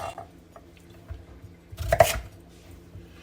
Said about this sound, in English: And I actually like cutting vegetables.